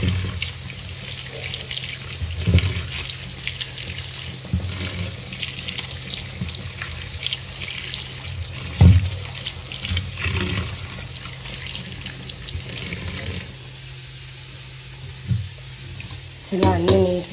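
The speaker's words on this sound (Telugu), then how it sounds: "మష్రూమ్స్ ఇట్లా శుభ్రంగా క్లీన్ చేసేసుకోవాలండి." Mushrooms rinsed by hand under a running kitchen tap, a steady splashing stream with occasional louder knocks and handling sounds, close by and without talk, while preparing a mushroom curry.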